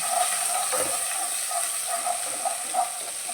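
Ginger garlic paste sautés in a pan for a paneer masala curry, giving a steady close hiss and sizzle with faint stirring bumps and no talk over it.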